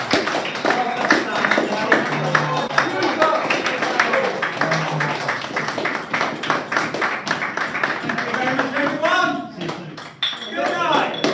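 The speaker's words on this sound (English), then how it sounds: "Can we all give a great round of applause to Mickey B here?" A crowd applauds for the performer Mickey B at a live event, with steady, dense clapping and voices mixed in throughout.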